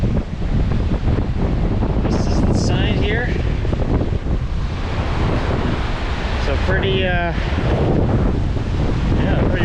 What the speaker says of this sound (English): pretty raging, strong river.